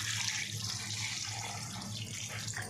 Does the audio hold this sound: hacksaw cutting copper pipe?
no